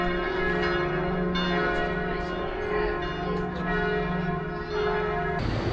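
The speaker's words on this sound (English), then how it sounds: "It's noon, so all the bells are going off" Bells of several churches in Switzerland ring together at noon in a loud, sustained overlapping peal with rich ringing tones, nearby and continuous.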